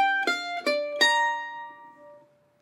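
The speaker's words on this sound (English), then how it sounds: "we can do somewhat of a bend on a mandolin" A mandolin plays a measure from a break on a song, with a slight string bend. Four bright picked notes ring close and clear, then decay slowly into silence.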